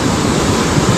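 Floodwater of the Girna river surges fast enough to sweep a tractor off the road, making a loud, dense roar of rushing water that stays constant with no voices.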